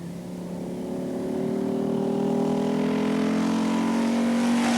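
An Audi 80 Quattro Group A rally car drives a stage of the 1985 Acropolis Rally in Greece, its engine a steady droning hum that swells and climbs slightly in pitch, moderately close and alone.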